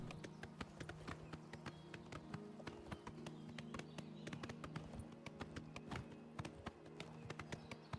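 Horse hooves clip-clop steadily while riding in the video game Oblivion Remastered, a continuous rapid rhythm of hoofbeats over a low background hum.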